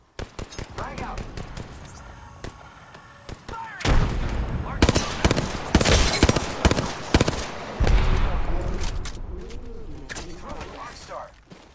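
Frag grenade explosion and gunfire in a ranked shooter game, a loud blast followed by bursts of rapid shots and more booms, with a voice calling out over the fighting.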